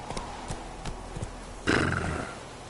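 Roach, the horse in The Witcher 3, gallops with quick hoofbeats, then lets out a loud whinny partway through, heard close.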